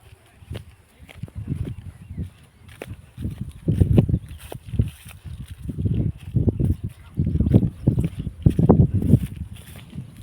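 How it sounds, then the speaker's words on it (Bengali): Strong wind blows outdoors along a roadside, buffeting in low, rumbling gusts that swell and fade unevenly, loudest toward the middle and end. "এতটা হাওয়া হচ্ছে হয় চুলগুলো সব এলোমেলো হয়ে যাচ্ছে"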